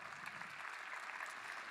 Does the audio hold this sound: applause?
yes